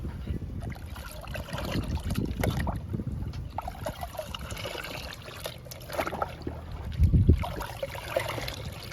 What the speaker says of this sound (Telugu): ఇలా పౌడర్ని, వాటర్ని బాగా కలపాలి